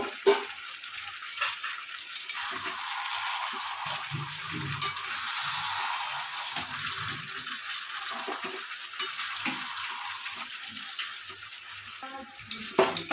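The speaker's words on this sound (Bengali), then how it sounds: "আলু টুকরোগুলো এবার আমরা মাংসে দিয়ে এবার একটু আমরা নেড়ে নেবো হালকা করে" Potato pieces being turned gently through dry-cooking coconut chicken, a soft continuous sizzle under light scraping and rattling of a spoon against the pot, fairly quiet and close.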